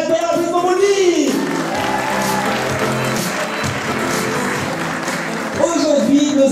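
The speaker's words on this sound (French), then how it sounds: "applaudissements pour lui" Studio audience applause for a guest on a local television show, a burst of clapping and cheering that rises between a host's speaking and then gives way to talk again.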